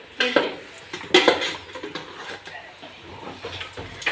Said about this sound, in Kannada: ಪಾತ್ರೆ ತೊಳಿ